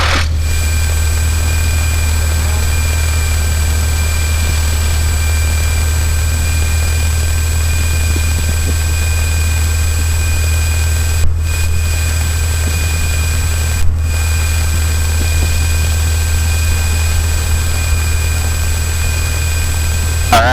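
Steady, loud engine drone of a small training airplane during a flight lesson, a constant low hum with whining tonal overtones running unbroken throughout, with no talk.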